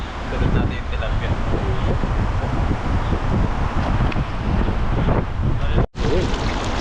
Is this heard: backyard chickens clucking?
no